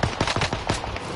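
Rapid bursts of automatic gunfire in a battle royale video game, loud and close: about half a dozen sharp shots in quick succession.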